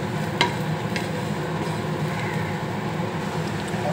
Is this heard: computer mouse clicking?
no